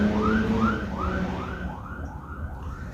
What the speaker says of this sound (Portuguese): Deixa eu passar a sirene.